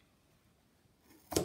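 A single short snip of scissors cutting through a paper strip, close and crisp, arriving at the very end after near silence, while making a kakiwik.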